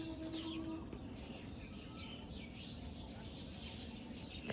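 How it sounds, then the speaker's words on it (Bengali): Many birds chirp and tweet continuously around a tree on a spring morning, a busy layered chorus at moderate distance over steady low background noise. "শোনা যাচ্ছে কি পরিমাণ পাখি ডাকতেছে"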